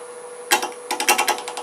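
A wood lathe turns a round medallion ornament held with tailstock support while a small 3/8 inch bowl gouge cuts it: a steady motor whine runs underneath quick, close bursts of cutting chatter.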